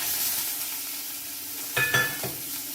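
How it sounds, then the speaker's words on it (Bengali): Gentle sizzle of thick onion frying in a wok, with a few louder stirring scrapes near the end, close by, no one speaking. "এটা সুন্দর করে ভাজা হবে"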